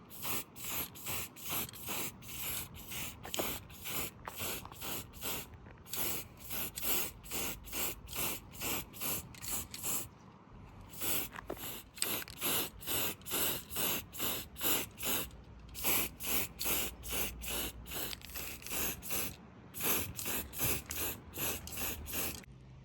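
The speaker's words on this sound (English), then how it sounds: "And we'll get spraying." An aerosol can sprays paint onto bead-blasted motorcycle cooling fan parts in a long series of short, rhythmic hissing bursts with brief pauses, close and fairly loud, no talking.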